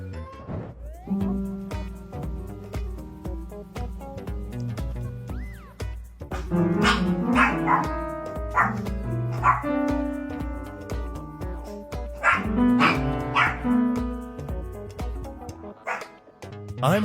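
A dramatic dog at the vet, barking, yipping and whimpering steadily and close up, with a rhythmic stream of yelps rising in intensity for around seventeen seconds, mostly alone with no talk.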